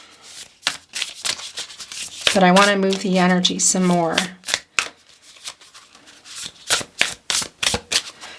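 Tarot cards are shuffled in a steady papery riffle and rub running through the middle of the clip, while someone talks before and after it.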